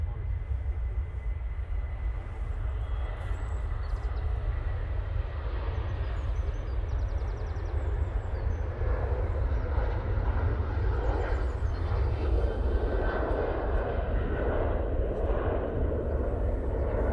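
A propeller airliner departs Manchester Airport, its engine roar steady and loud throughout, building slightly as it climbs away with a broad low rumble.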